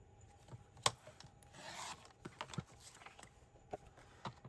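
Cardstock panel cut down to 4 inches with a paper trimmer, heard as a short steady rasping slide near the middle, framed by a few light taps and clicks, close and quiet.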